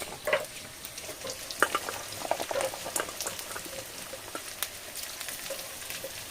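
Sliced, pre-fried bitter gourd goes into a hot cooking pot outdoors in the Sundarbans, bringing a soft sizzle and bubbling with scattered light clinks and stirring sounds, fairly quiet and close, with no talking.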